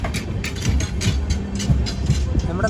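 Jhelum Express rolling through Hazrat Nizamuddin station without stopping, a loud continuous low rumble of the moving train with rhythmic wheel clatter, heard from inside a sleeper-class coach.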